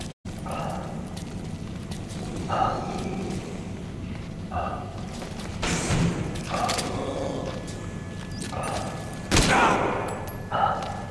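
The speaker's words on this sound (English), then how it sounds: "Shooting your own men!" Gunfire in Metal Gear Solid V: The Phantom Pain rings out in sharp, separated bursts and single shots amid low ambient rumble, with a few louder close reports near the end.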